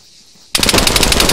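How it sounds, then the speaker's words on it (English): A rapid burst of machine gun fire from the video game Arma 3 breaks suddenly out of near silence, loud and close, with fast evenly spaced shots continuing to the end. "There's a machine gunner around the corner."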